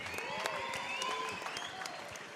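A fight-night crowd applauds two fighters after a bout, with dense, continuous clapping and scattered cheers at a moderate distance, steady throughout.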